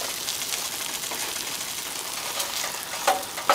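A sauce for Hungarian creamy wax beans is stirred constantly in a pan on the stove, giving a steady soft sizzle and scraping with a few sharper clicks of the utensil near the end.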